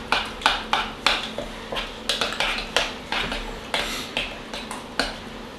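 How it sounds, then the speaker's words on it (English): A spoon stirs a pot of pre-cooked baked beans, giving a steady run of sharp clinks and scrapes against the pot, close and fairly clear with little else around. "Get back to mixing these beans."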